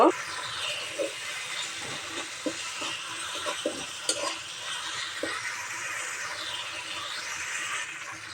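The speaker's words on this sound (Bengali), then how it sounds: "এক চামচ লবণ আধা চামচ হলুদ দিয়ে ভালো করে কষিয়ে নেব" Spices with salt and turmeric are stirred and sautéed in a pan for a fish curry, giving a soft sizzling hiss broken by light scraping and clinking taps from a spoon.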